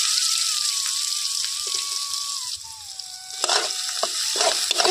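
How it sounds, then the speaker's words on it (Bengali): Cumin, green chillies and chopped onion frying in hot oil in a Bengali kitchen, a steady close sizzle running throughout with a few stirring scrapes toward the end and a faint pan tone. "খুব ভালো করে তেলের মধ্যে ভেজে নেব।"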